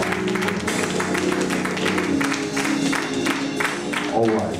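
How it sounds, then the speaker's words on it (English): Church congregation at a pastor installation service claps hands together in a steady, lively rhythm, loud and close, with voices and music mixed underneath. "Come on, let's clap our hands."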